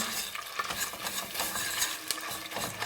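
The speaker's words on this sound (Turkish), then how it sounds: "Salçamı kavuracağım." Tomato paste sautés in a butter and oil mix in a home kitchen pan, a soft steady sizzle broken by repeated scraping stirs of a utensil against the pan, close and fairly quiet, with no voices.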